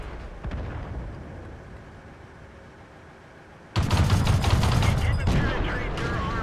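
A Luchs light tank in a tank battle game in a ruined city, firing its autocannon: faint distant fire and rumble at first, then a sudden loud close burst of rapid shots with a metallic clatter that keeps going.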